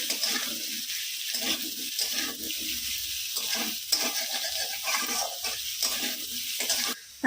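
Chopped potatoes fry with onions in a pan: a constant soft sizzle runs throughout, with rhythmic stirring scrapes rising and falling over it, close by and without voices.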